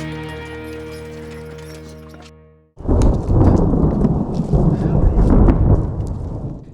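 Sudden loud crash of thunder breaks in after a quiet tonal passage, followed by a heavy, steady downpour of rain during a horseback trail ride in the American West.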